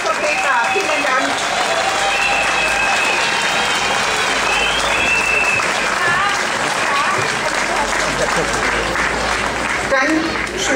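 An outdoor demonstration crowd in Göppingen applauds a speaker named Petra, a loud, continuous wash of clapping mixed with cheers and crowd voices that stays full and close before thinning near the end.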